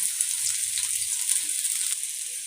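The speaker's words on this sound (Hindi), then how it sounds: "घी मेल्ट होने के बाद हम डालेंगे प्याज, और अब हम प्याज को सौते करेंगे" Onions sautéing in melted ghee in a hot frying pan give a steady, close sizzle and crackle, with faint stirring sounds low beneath it.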